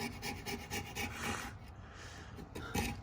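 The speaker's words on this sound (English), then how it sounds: "take the razor off to make sure it's nice and clean" A razor blade scraping an old original gasket off the metal engine surface of a Suzuki Ozark 250, in repeated short rasping strokes close up, then a brief pause and a final scrape.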